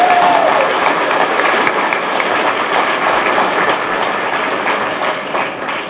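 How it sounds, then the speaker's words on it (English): Loud, dense applause from an American Chamber of Commerce audience for Dr. Tsai Ing-wen at a 2011 members' meeting, a continuous rain-like wash of clapping that eases slightly near the end. "So I think we should all give her a round of applause."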